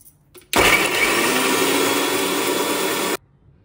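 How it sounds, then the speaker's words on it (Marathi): A kitchen mixer grinder whirs loudly as it blends onions into a paste. It starts abruptly, holds a steady high-pitched roar for about two and a half seconds, then cuts off to near silence. "आता पहिल्यांदा हा आपण कांदा बारीक करून त्याची पेस्ट तयार करणार"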